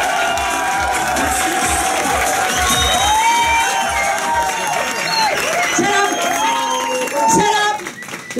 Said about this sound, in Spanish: El aplauso fuerte entonces para Ebony Angel.